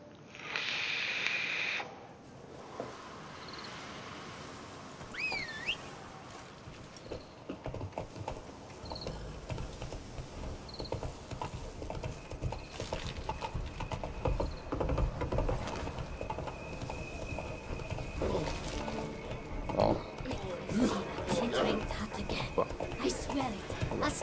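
Horse hooves clip-clop in The Witcher 3: Blood and Wine, a steady rhythm of hoof falls under constant game music and ambience with other in-game sounds layered on top.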